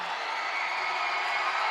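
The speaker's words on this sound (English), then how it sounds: "the Grovetown crowd roaring" A Grovetown high school basketball crowd roars steadily during free throws in a region game, a dense, sustained wash of cheering voices at a constant level throughout.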